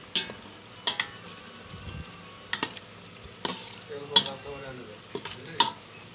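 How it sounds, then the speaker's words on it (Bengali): Eggs frying in oil for egg biryani are stirred in a pan, with a low sizzle broken by repeated spatula scrapes and clinks against the metal at an uneven rhythm. "ডিমগুলা এর ভিতর দিয়ে একটু নাড়াচাড়া করতে হবে"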